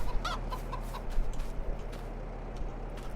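Chickens on a farm in Farming Simulator 22 cluck repeatedly over a steady low background hum, several short clucks near the start followed by scattered quieter ones.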